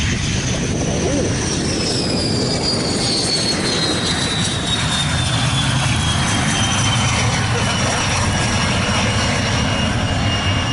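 MiG-21 jet fighter flown by two female pilots at the Wonsan air show, a loud continuous jet roar with a falling whine as it passes, steady broadband rumble throughout with faint crowd noise.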